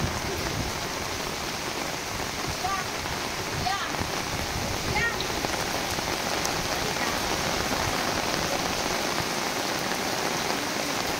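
Heavy typhoon rain from Typhoon Carina pours down steadily and loudly, a dense continuous roar of drops hitting surfaces with no letup.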